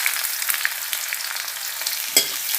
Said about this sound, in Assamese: এতিয়া মই নৰসিংহ পাত কেইটামান প্ৰথম তাৰপিছতে কুটা পিঁয়াজখিনি দি দিলোঁ